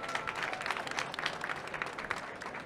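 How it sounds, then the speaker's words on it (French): Audience at a Vivatech awards talk in Paris clapping steadily, a moderate continuous patter of many hands in a hall, heard from some distance throughout. "avec un tonnerre d'applaudissements."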